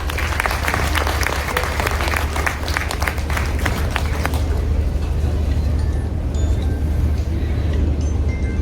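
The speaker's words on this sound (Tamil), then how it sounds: "ஒரு நல்ல கைத்தட்டல் கொடுத்துலாம்." An audience at a Tamil film event for Kalidas 2 breaks into applause, a dense wash of clapping that fades after a few seconds while a steady low rumble of crowd and room noise continues.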